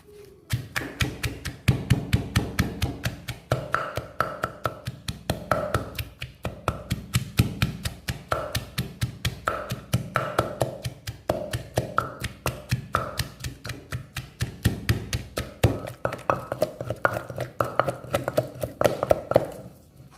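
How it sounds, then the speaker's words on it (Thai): Dried chilies soaked soft, shallots and garlic pounded in a mortar with a pestle: a long, steady run of close, sharp thuds at a brisk, even rhythm, continuing throughout with no pauses. "มาโขลกในส่วนของพริกหอมแดงกระเทียม"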